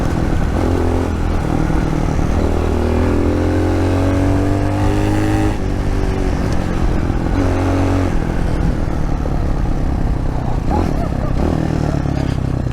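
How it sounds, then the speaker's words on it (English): A Magician 250 motorcycle with a four-stroke engine revs on a test ride, a loud, steady engine drone with rising and falling pitch sweeps as it accelerates and shifts, close and continuous throughout. "4-cycle engine has plenty of torque."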